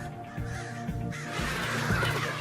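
American crows on a college campus cawing repeatedly, several harsh calls in irregular bursts that grow louder and denser toward the end, heard alone outdoors.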